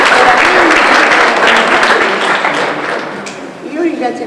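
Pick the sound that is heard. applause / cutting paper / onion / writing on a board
applause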